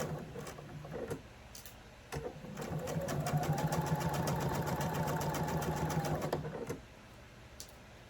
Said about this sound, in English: I'm going to just start sewing